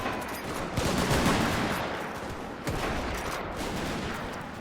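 Soldiers firing muskets and artillery in the black-powder battle game M&B: Parabellum, overlapping crackling volleys with sharp bursts near the start and middle, a continuous loud battlefield din without speech.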